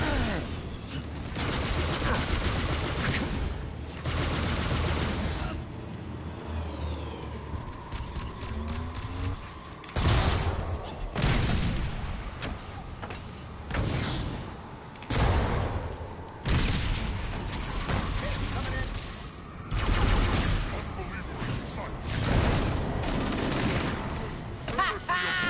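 Gunfire in Halo: Campaign Evolved, repeated loud bursts of shots arriving in clusters with short lulls between them, close and punchy over a steady battle backdrop.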